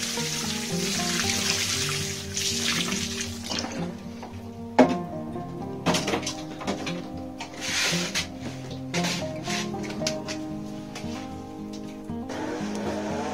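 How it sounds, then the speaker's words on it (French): Water pours and splashes steadily onto soil in a vegetable garden bed, a good soaking before potatoes go in, with a few knocks and shuffles of handling in between. "Donc on va commencer par un bon arrosage."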